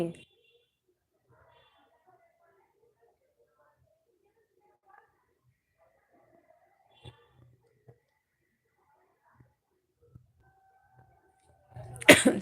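Mostly quiet with faint scattered noises, then a sudden loud, rough cough bursts out close by right at the end.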